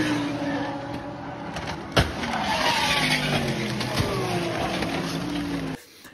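A Mercedes-AMG GT3 race car engine drones steadily in a driving simulator at Monza, with tire noise and a sharp crash thump, then the sound cuts off abruptly.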